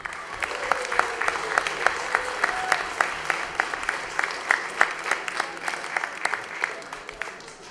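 An audience at a Lowell school committee meeting applauds students, a modest round of clearly separate claps from a smallish group in a hall, steady and moderately loud, lasting several seconds.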